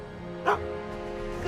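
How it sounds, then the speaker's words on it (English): A dog barks once in the Back to the Future video game on PS3, a short sharp yip set against a steady background of game music and ambience, with voices talking nearby. "Good dog."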